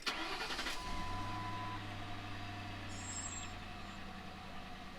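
A Ford Crown Victoria V8 fitted with a newly installed ported intake plenum cranks briefly and catches, then settles into a steady low idle that continues close by without talk.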